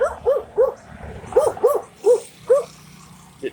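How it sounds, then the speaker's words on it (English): A dog barks repeatedly on a morning street walk in Santa Ana, Pampanga, Philippines, eight or so sharp, close barks in an uneven rhythm, some doubled, before it falls quiet. "But that dog barks at me."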